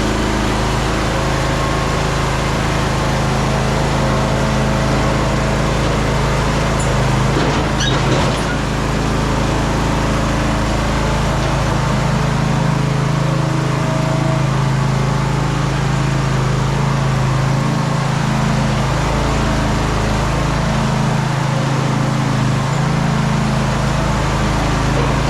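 A Simplicity Broadmoor riding mower engine runs steadily after a drive belt replacement, a constant loud close drone with no talking and only slight variation throughout.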